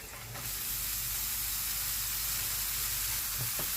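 Onion and freekeh fry in a pan, giving a loud, steady sizzle and hiss that starts abruptly and holds evenly, with a couple of faint clinks near the end.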